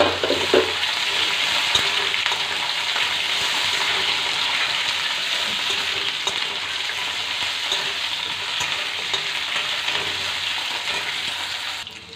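Potatoes and green chillies with crushed garlic frying in a pan, a loud continuous sizzle holding steady throughout.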